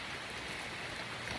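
Rain falls steadily outdoors on a cold, wet day, a constant soft hiss of drops with no voices.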